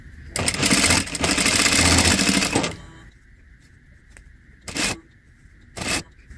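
Sewing machine stitching stretchy dress material, a loud rapid whirring run of about two and a half seconds, then quieter pause with a faint hum and two short bursts of stitching.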